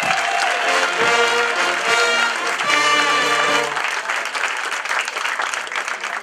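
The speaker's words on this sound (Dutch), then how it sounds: "geef ze gewoon allebei een applaus." Audience at a Dutch carnival gala session in Wilbertoord applauding a couple, sustained clapping mixed at first with loud festive music that fades, leaving the applause to carry on.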